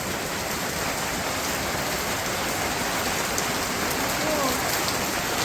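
Steady rain pouring down in a rural village, a dense continuous hiss of drops on surfaces at even loudness throughout, with no voices.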